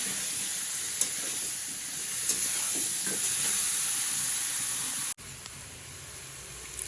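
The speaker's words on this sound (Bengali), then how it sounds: "এখন মাংসটাকে সুন্দর করে কষাই নিব আস্তে আস্তে একটু সময় লাগবে" Meat being slowly sautéed (kosha) in a pan: a continuous close sizzle and hiss with soft stirring, cutting off abruptly near the end before a quieter tail, no voices.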